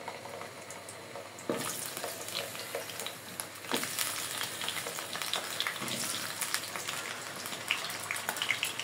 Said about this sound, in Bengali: আমি একটু প্রথম পর্যায়ে আলুগুলো ভেজে নেব।